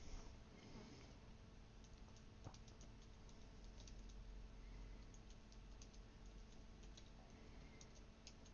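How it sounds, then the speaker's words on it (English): Computer keyboard typing at a desk, heard as a faint, steady run of light key clicks spread through the whole stretch over a low background hum, with no talking. "I was typing the line."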